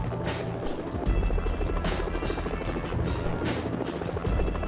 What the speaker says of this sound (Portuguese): E esse helicóptero aí?